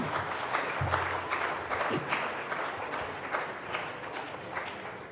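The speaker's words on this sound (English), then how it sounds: "can we have a thunderous applause" A crowd at a corporate quiz grand finale claps in sustained, dense applause, steady and fairly loud throughout, with a few louder bursts and faint voices mixed in.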